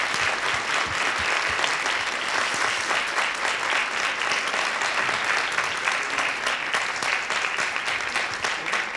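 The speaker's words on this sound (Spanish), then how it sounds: "les vamos a dar un aplauso" An audience at a fashion journalism talk gives a sustained round of applause, dense, even clapping filling the whole stretch at a steady, fairly loud level.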